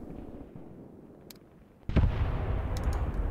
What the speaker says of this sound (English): Oh, that artillery landed uncomfortably close to my own units.